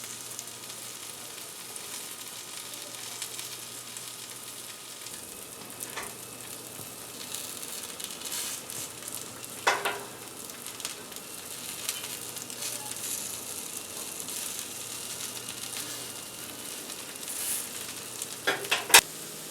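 Morel mushrooms frying in a pan, a continuous close sizzle and hiss with occasional louder spits and stirring scrapes, no talk.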